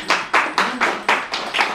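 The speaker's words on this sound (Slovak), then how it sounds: "Takže privítame ich potleskom." An audience claps in applause to welcome a choir at a Christmas concert; six distinct bursts of clapping arrive at a steady rhythm, close and fairly loud, with no talking.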